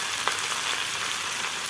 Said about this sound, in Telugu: క్యాప్సికమ్ ద్వారాగా మగ్గే వరకు వేయించుకోవాలి